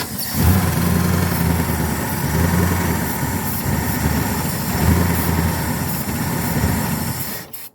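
A carbureted engine runs after a cold start with a steady, pulsing idle and slight surges in rhythm, close and fairly loud, before abruptly cutting out at the end.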